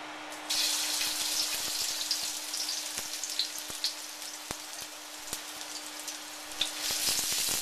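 Minced garlic and ginger sizzle in a hot wok for Cantonese chow mein, a steady close hiss sprinkled with sharp crackles and pops throughout.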